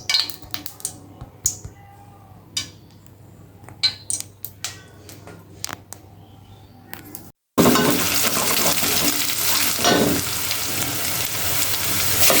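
Curry being fried and stirred in oil in a home kitchen: scattered clinks and scrapes at first, then after a brief gap a loud, steady sizzle with stirring.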